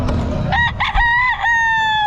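A Sweater gamefowl rooster at a Bocaue pet market lets out one loud, close crow, a strained rising opening followed by a long sustained held note, with faint background noise before it.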